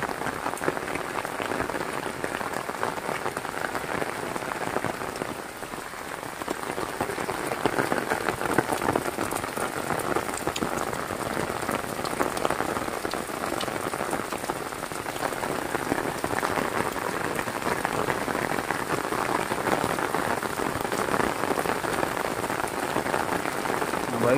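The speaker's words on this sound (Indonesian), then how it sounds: "inilah hujan deras di Desa Cimura, Kecamatan Karangpawitan, Kabupaten Garut" Heavy rain pours steadily on surfaces in Cimura village, Karangpawitan, Garut, a dense, even hiss that goes on for the whole stretch with no break.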